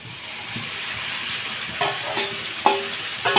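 Marinated mutton drops into a pan of fried onions and sizzles with a loud, steady hiss, broken by a few sharper spits and crackles as the meat settles.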